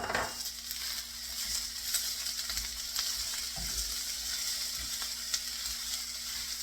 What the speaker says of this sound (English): Now we're going to add some of these carrots.